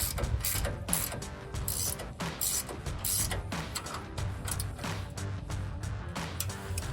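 A ratchet drives a 21 mm socket to tighten a tie rod end nut on a Ford F-150, giving steady close clicking and mechanical rattling throughout with no talk.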